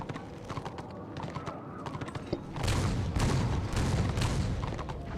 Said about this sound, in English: Oh, the sweet sound of Dwarven engineering. The cannons.